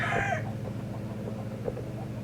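A rooster crows loudly up close in a farm chicken coop, a single drawn-out call followed by soft clucking and shuffling from the hens.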